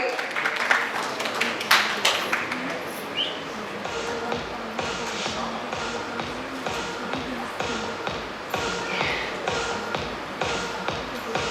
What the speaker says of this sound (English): Can you have a big round of applause, everybody?